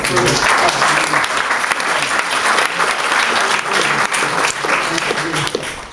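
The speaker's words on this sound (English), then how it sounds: "I see applause." A town meeting audience applauds, producing a loud, continuous crackle of many hands clapping that holds steady throughout, with some voices mixed into the din.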